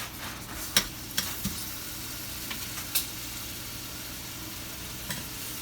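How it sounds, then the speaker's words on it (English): Oxtail sears in a hot pan with a continuous close sizzle and a few sharp pops and clinks scattered over it. "My pan is hot. We're going to sear, okay?"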